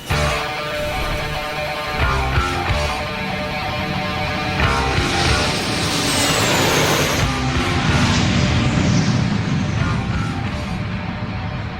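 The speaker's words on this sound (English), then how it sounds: "I've done plenty of takeoffs in Boeing 757s, but this particular one was rather special." A Boeing 757 jet airliner roars during its takeoff roll, with a loud, steady, broadband engine rumble and rising whine filling the cabin throughout, with no speech.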